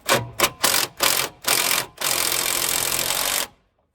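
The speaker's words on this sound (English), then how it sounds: "use my torque wrench, 15mm impact wrench" A 15mm impact wrench on a wishbone bolt of a 2010 Ford Focus MK2, several short close buzzing bursts followed by one longer sustained run that cuts off into quiet.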